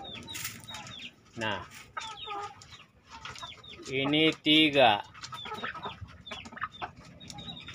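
Hens cluck in a freshly tidied chicken coop on a poultry farm, several nearby calls in short irregular bursts with a louder pair midway, while someone talks over them.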